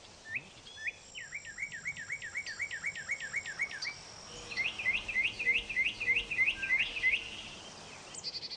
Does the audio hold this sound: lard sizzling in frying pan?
no